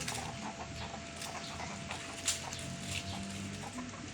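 Faint, scattered clucks and short calls from gamecocks bred for fighting, over a steady outdoor background hum, with no talking.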